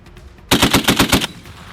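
An M2A1 .50-caliber heavy machine gun fired by US Marines during a test-fire lets off a loud, close burst of about seven rapid, evenly spaced shots, then cuts off abruptly.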